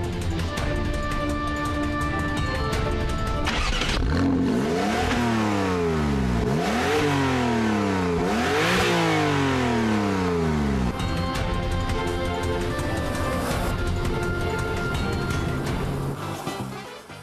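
A Porsche 911 GTS convertible with its standard sport exhaust and black tailpipes revs hard through several rising and falling gear pulls, loud and close, then settles back into a steady engine drone.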